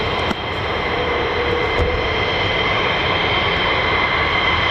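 Steady, loud broadband roar of a US Air Force fighter jet engine at RAF Lakenheath, heard from about a quarter mile away, holding constant throughout with a couple of faint clicks near the start.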